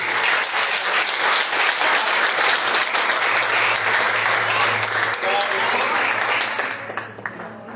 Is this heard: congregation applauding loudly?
yes